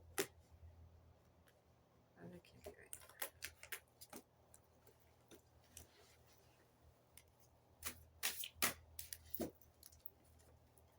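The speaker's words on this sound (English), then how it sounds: "need to shuffle a little bit better" Tarot cards are shuffled in sporadic bursts of crisp, close flicks and riffles, with soft clicks between them over quiet room tone.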